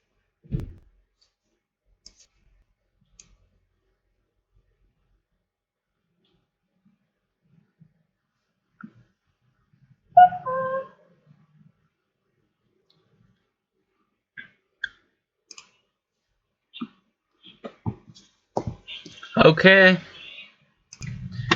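A computer mouse clicks sharply and sparsely during a MySQL Server and Workbench install, single clicks spread across long quiet stretches, with brief speech in the middle and near the end.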